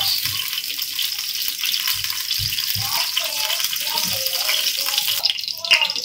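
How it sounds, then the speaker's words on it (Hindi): Leftover kebab-frying oil poured onto a hot tawa in a home kitchen, a soft pouring trickle followed by a gentle hiss and crackle of sizzling, fairly close, with scattered clatter. "कल कबाब तली थी उसमें से थोड़ा तेल बच गया था, तो ये डाल दूंगी मैं"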